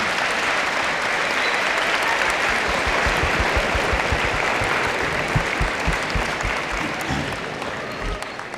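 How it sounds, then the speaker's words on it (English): A large audience applauds steadily at a talk, a thick, continuous wash of clapping sustained throughout with faint crowd noise underneath. "He deserves every bit of that applause"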